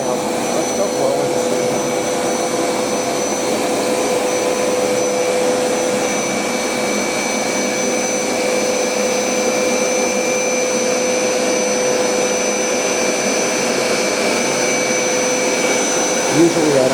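A Hoover SmartWash automatic carpet cleaner running on carpet, a loud, steady motor whine with a constant high tone that holds unbroken throughout, close and unvarying.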